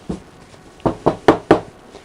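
A cornstarch sachet is tapped against a silicone mold: one soft tap, then four sharp, close knocks in a quick, even rhythm.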